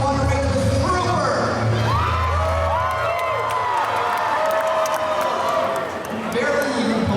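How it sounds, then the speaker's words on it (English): A fairground crowd at a dog racing show applauds, cheers and whoops for a racing dog, a dense continuous roar of clapping and high shouts, children's voices among them. "By applause, do you want to race with Trooper?"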